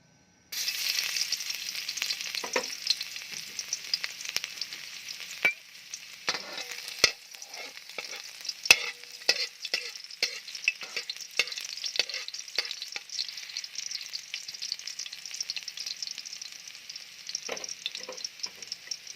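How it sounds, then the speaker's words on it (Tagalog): Garlic sautéing in hot oil in a pan, a bright crackling sizzle that runs steadily throughout, punctuated by sharp clicks and taps of the spatula, no voices. "So, lagyan natin yung ating bawang."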